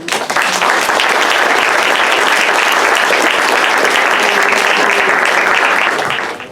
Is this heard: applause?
yes